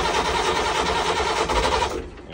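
A Perkins diesel engine on a charter boat cranks and catches after its fuel system is bled, with a loud, steady rough churning for about two seconds before dropping off.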